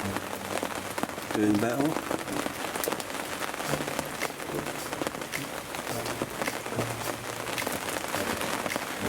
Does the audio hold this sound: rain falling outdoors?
yes